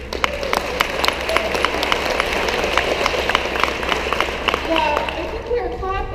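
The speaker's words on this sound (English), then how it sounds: "I think we're clapping" An audience at a mayoral education event claps steadily, a dense patter of many hands with sharp individual claps standing out, loud and continuous, with voices mixed in.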